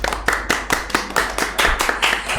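Clapping on a podcast set welcoming two provincial table tennis champions, a few pairs of hands striking close and loud in a brisk, slightly uneven rhythm.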